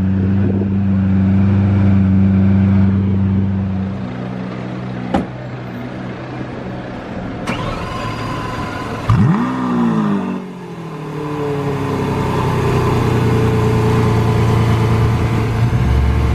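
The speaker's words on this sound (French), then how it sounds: "Voilà, c'était violent le start-up là." An Audi RSQ3 fires up with a loud, violent cold start, a sharp rising roar that settles into a throaty idle and then revs, with its exhaust valves closed because it is not in sport mode.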